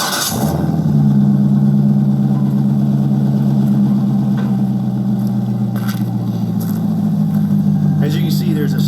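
A C5 Corvette fitted with an aftermarket Billy Boat exhaust starts and settles into a deep, steady idle rumble, loud and close, with a few faint clicks and background noises.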